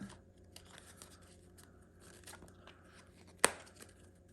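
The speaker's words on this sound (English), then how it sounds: "to reset, you just peel the gimmick off" A gimmick card is peeled off a deck of playing cards. Faint, quiet rustling and scratchy crackles build to one sharp peeling snap near the end, with no talk.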